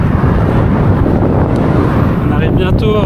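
Steady headwind roaring across the microphone while riding a road bike on an open road, a loud continuous broadband rush with faint whistling near the end.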